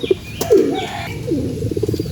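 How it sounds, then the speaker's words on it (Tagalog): Soft racing pigeon coos and bird calls, close by, with some brief rustling and a faint wing flutter early on. "Para nang sa ganun mabilis na pumasok yung ating ibon na si Buhay Barak mga kalapatids."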